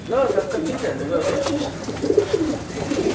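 A pair of Madrasi pigeons, female and male, coo in a loft at Ichhapur near Kolkata, giving soft, close, repeated throaty rolling calls that overlap almost without pause.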